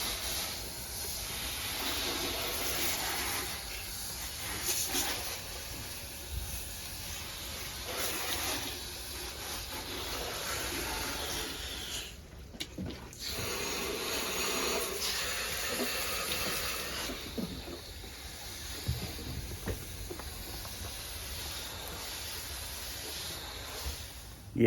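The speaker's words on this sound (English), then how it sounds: "We're just going to go ahead and rinse all this off." A water spray rinses a dirty, deteriorating HVAC evaporator coil, producing a steady broad hiss that runs continuously with slight fluctuations and a brief dip midway, no talking.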